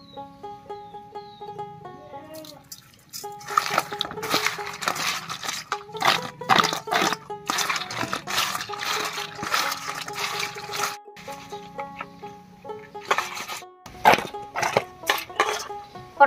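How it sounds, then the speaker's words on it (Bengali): Cut pointed gourds (potol) being washed by hand in water: irregular splashes and sloshing bursts over steady background music. "পটলগুলো সব কেটে নিলাম। এবার ভালো করে ধুয়ে নিচ্ছি"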